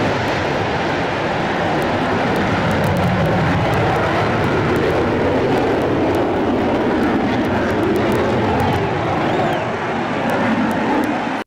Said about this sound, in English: helicopter flyover downtown